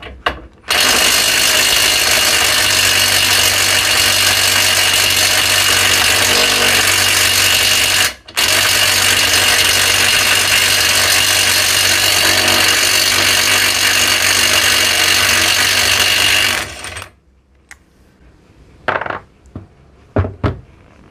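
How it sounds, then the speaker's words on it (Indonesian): Bosch GDR 120 Li 12 volt impact driver running loud and close, a continuous harsh whirring hammer for about sixteen seconds with one brief break, then stopping into quiet handling clatter. "impact driver ini mempunyai torsi di spek adalah 100 Nm"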